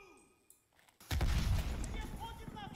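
Loud burst of gunfire and explosive blasts from Call of Duty Cold War combat, with grenades being thrown, erupting suddenly after a quiet start and sustaining a dense roar of shots to the end.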